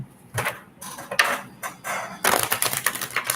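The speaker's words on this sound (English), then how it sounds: "Just shuffling up my tarot deck here." A tarot card deck is shuffled by hand in a few separate bursts of quick papery riffling and tapping, close and fairly loud, with no talking.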